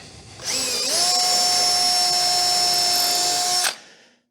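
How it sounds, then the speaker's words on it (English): A power drill whirs up to speed and runs steadily for about three seconds, pre-drilling into small lumber, then winds down. "When I work with smaller lumber like this, I like to pre-drill."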